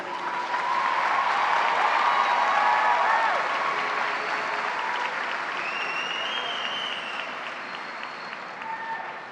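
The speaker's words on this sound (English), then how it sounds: "You may now applaud all of these outstanding students." Sustained audience applause at a 2018 high school graduation ceremony, loud and steady for several seconds before gradually thinning toward the end, with no talking over it.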